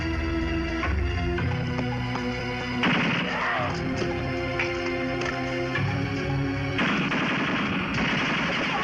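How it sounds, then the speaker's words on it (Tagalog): Gunfire comes from behind a filing cabinet during a shootout in a Filipino action film: loud, continuous bursts of rapid automatic fire with sharp impacts that keep going for the whole stretch. "Nagmumula ang putok sa likod ng filing cabinet."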